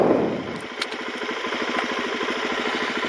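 A stock-exhaust motorcycle engine runs close by in a steady, rhythmic, moderately loud idle with fast even pulses and no talk over it.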